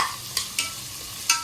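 Onions and green chillies sautéing in a pan for a chicken gravy, a soft continuous sizzle broken by three quick scraping strokes of a spoon.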